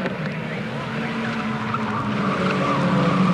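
Ford Laser race cars battle around Amaroo Park circuit, engines roaring steadily with tyre squeal and skidding noise building over several seconds, fairly loud and continuous with no talk.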